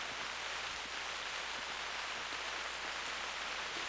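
Steady rain pours in the hunting game The Hunter, a dense, even hiss that holds unbroken from start to finish with no voices over it.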